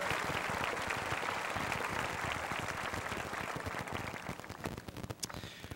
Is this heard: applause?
yes